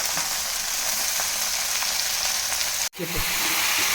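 Onions and red amaranth leaves fry in a pan with a steady, close sizzle and crackle; a brief break near the end is followed by renewed sizzling.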